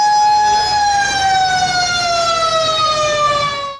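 A fire engine siren in Saddar, Karachi, answering a building fire, holds a loud, steady, slowly falling electronic wail that dominates close by over faint traffic rumble.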